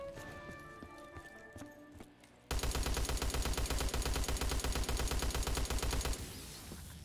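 Call of Duty Black Ops 3 Zombies gunfire on a custom Super Mario Galaxy Ghostly Galaxy map erupts after a quieter musical stretch into a loud, steady rattle of rapid shots lasting several seconds before stopping abruptly.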